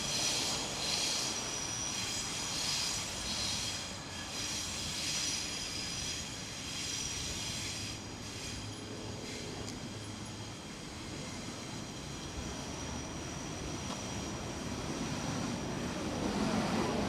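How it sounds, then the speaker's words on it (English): Train wheels screech and scrape on tracks overhead in a Sydney tunnel, with a continuous rumble of rail traffic and high squealing bursts echoing throughout. "Hear the trains scraping on the tracks above us."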